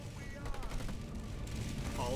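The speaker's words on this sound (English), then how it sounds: "Get them, turrets." Turrets fire in Halo Wars 2 multiplayer as a quick burst of distant gunfire rattles over a low rumbling game mix. The shots are fairly faint, and a player's voice briefly mingles with them.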